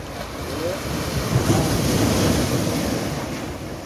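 Sea waves behind Haji Ali Dargah in Mumbai, a steady broad wash of surf mixed with wind buffeting the microphone, swelling slightly in the middle.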